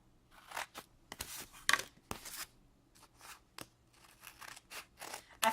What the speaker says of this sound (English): I'm just going to cut out a long strip here